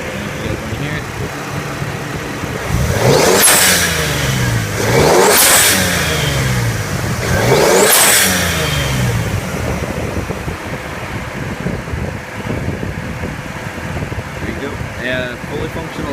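A 1995 Lexus GS300 fitted with a Toyota Aristo 2JZ-GTE twin-turbo engine revs three times over a steady idle, each blip rising and falling sharply, close and loud, with wind noise throughout.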